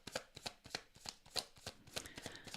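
Tarot cards being shuffled by hand up close, a quick run of about a dozen crisp riffling bursts in an uneven rhythm, with no voices.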